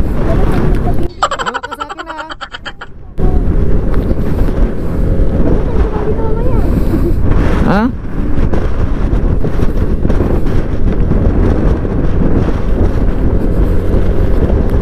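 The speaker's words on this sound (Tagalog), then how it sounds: "Grabe, lakas ng hangin." Strong wind buffets the microphone almost throughout, a loud roaring rumble with a brief drop near the start, outdoors on a motorcycle ride in San Nicolas, Pangasinan; people talk faintly under the gusts.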